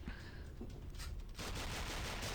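Heavy gunfire from the Sift Heads World video game, with bazookas, flashbangs and grenades in play, forms a dense, loud, continuous barrage of rattling shots that thickens partway through, with no talking.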